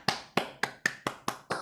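Seven sharp, evenly spaced claps from online attendees arrive in a brisk steady rhythm, each a crisp close smack with a quick decay, heard alone without talk.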